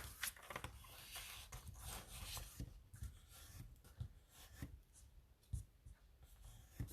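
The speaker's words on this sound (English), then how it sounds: "So let's just run my bone folder over that" A bone folder rubs back and forth over creased folded cardstock, a close, quiet papery scraping in repeated short strokes with soft handling noises.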